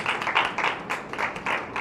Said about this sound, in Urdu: یسوع مسیح کے لیے زوردار تالیاں